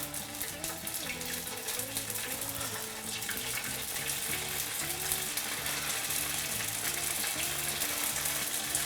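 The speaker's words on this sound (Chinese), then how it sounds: "我们在煎锅里再放点油，把豆腐再煎一下。" Flour-coated tofu pan-frying in oil, giving a steady, even hiss throughout with a melodic backing of music underneath.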